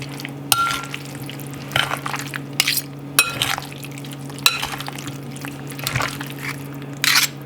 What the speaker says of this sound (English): we're gonna go ahead and mix it